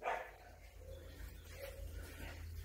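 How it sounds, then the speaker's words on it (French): Dogs bark in the distance, faint and scattered, over a quiet background with some light clatter nearby. "si tu entends des chiens gueuler"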